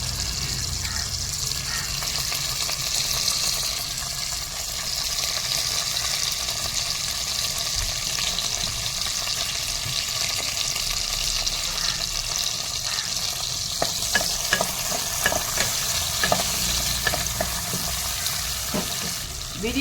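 Onion and tomato sautéing in oil for mutton biryani, a steady moderate sizzle with scattered clinks of stirring, growing busier toward the end, a voice talking at times.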